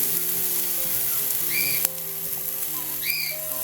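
Water splashed onto a hot, unoiled dosa griddle for Davanagere benne dosa, giving a steady close hiss with a sharp crackle near the middle and faint whistling tones throughout.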